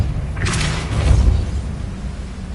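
A Depulso spell cast in the Hogwarts Legacy video game sounds as a single whooshing burst with a low booming thump, moderately loud, then dies away over about a second.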